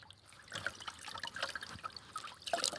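Water trickles and splashes steadily for a few seconds as a horse is bathed in Kingdom Come: Deliverance II, a soft liquid pouring sound with small drips and a brighter splash near the end.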